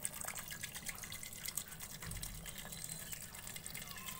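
Water streams and splashes steadily into a pot of mutton being cooked for yakhni pulao, a close, continuous pouring sound with no talking.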